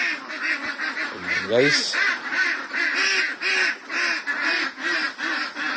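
Ducks on a duck layer farm quack in a dense, continuous chorus, with someone speaking briefly over the flock.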